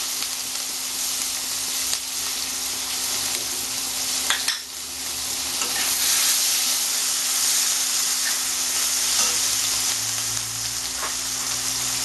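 Panch phoron spices and onion frying in oil for a Bengali hilsa curry, a loud continuous sizzle and hiss close by with a few brief stirring scrapes and clinks and a steady low hum behind.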